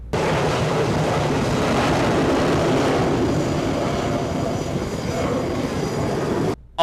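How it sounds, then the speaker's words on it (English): A military jet launches off an aircraft carrier flight deck with a loud, continuous roaring blast that fades slightly, before the sound cuts off abruptly near the end. "here's what a jet looks like flying off the flight deck"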